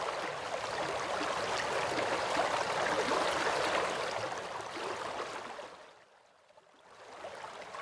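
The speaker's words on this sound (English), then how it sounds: "if we under the bridge, so we can hear river sound without problem" Steady broadband rush of flowing river water in a video game, heard from under a bridge, loud and continuous, dipping sharply to near silence for a moment before returning more softly.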